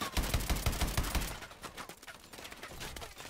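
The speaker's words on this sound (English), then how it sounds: "People are shooting at me." Video game gunfire in Call of Duty: Advanced Warfare aimed at the player: rapid automatic bursts, loud and close at first, then sparser and a little fainter.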